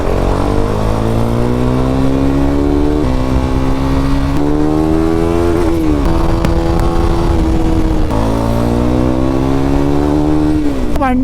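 A motorcycle engine at a Triumph and KTM showroom revs loudly and continuously, its pitch climbing and dropping in repeated sweeps as the rider works through the gears, with voices faintly underneath.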